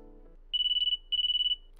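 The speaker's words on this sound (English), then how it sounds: "His phone rang." A mobile phone rings in two short bursts of rapid, high electronic beeps separated by a pause, clear against near silence, with a voice starting right at the end.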